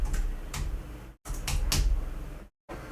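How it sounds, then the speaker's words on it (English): Keystrokes on a computer keyboard while building a Bricks Builder site, a few scattered clicks and taps in two short bursts with brief silent gaps, close and fairly quiet. "Oh, my typing is terrible."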